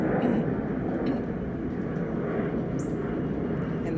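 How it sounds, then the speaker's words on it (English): A passing airplane rumbles overhead as a broad, steady low roar that holds loud and even throughout, with no voices. "As an airplane, it just decided to go overhead."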